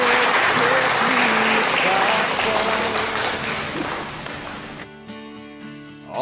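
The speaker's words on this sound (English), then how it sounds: "Brothers and sisters, let's give a round of applause to our" Wedding guests give a loud round of applause that fades out, giving way to music with a voice near the end.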